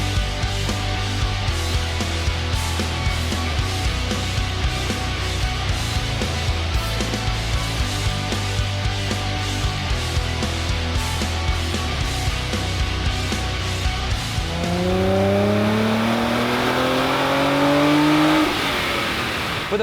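Car engine with a titanium mid-pipe exhaust idling with a burbling rumble, then revving up with rising, raspy pitch near the end; loud and close.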